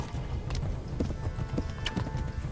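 Horse hooves clip-clop steadily in the Kingdom Come: Deliverance video game, a quick rhythmic trot heard fairly softly and continuously.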